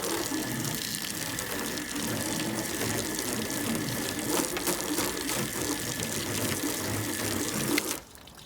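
Water rinses steadily over waxed car paint treated with Meguiar's Ultimate Quik Wax, a close, continuous rushing hiss that cuts off just before the end.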